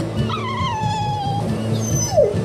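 Dogs in the video game Tales of Berseria whimper and yip briefly on board a ship, with a rising whine, over a steady low background drone.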